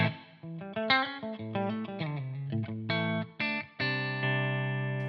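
Electric guitar with a bright, twangy single-coil tone plays a quick phrase of picked notes and chords with reverb, loud and alone.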